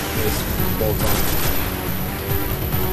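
Rifle gunfire in Destiny, dense rapid bursts of shots crackling throughout, loud and continuous, with some game noise mixed in.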